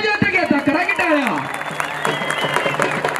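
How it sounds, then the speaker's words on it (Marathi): Spectators at a wrestling final applauding, scattered clapping and crowd noise rising under a commentator's excited voice at the start, continuing more evenly afterward. "आता करा की टाळ्या"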